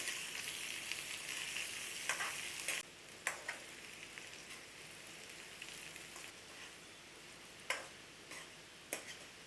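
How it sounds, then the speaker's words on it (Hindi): Quiet, steady sizzle of onion and garlic frying in oil, with occasional sharp clicks and taps of a utensil against the pan. "प्याज लहसुन को फ्राई करेंगे मैं।"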